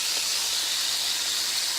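Bacon sizzling loudly in a frying pan, a dense, steady hiss of popping fat close to the pan with no talking.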